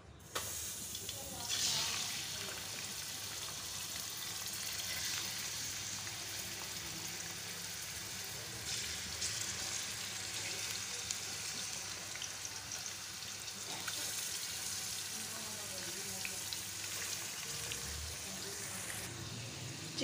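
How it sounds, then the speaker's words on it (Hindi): Chicken frying in oil in a karahi, a steady loud hiss and sizzle with crackling pops throughout, heard close while someone talks over it at times. "ऑयल में हम चिकन ऐड करेंगे।"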